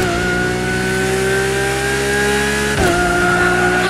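A Lamborghini engine in the racing video game The Crew Motorfest holds a high, steady rev that climbs slightly, then drops sharply with a gear change and pulls again, loud and close.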